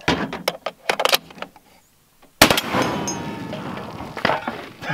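A .50 BMG rifle firing armor-piercing incendiary rounds at bulletproof glass: after a few sharp impacts and clatter, a loud blast hits at mid-clip and is followed by a long rumbling decay outdoors.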